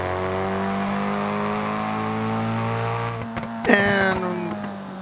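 In the BeamNG driving game, a car engine drones at steady high revs, then surges and climbs sharply with a rising whine, then fades back. The sound is loud and close, with no talk over it.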